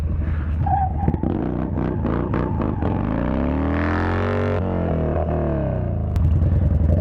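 A Yamaha Bolt motorcycle drifts with its engine held at high revs, a loud, close, continuous roar that rises and falls in pitch, with tire scrub and clatter underneath.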